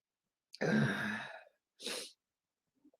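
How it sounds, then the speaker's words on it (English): A single powerful sneeze bursts out loud and close, followed after a short pause by a briefer breathy exhale, then near silence. "that was a powerful sneeze"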